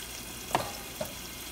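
Water for a salmon fish curry at a rolling boil in a pot, a soft continuous bubbling hiss with two distinct pops, the first louder than the second.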